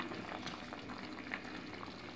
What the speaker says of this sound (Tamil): தண்ணி நல்லா கொதி வந்துடுச்சு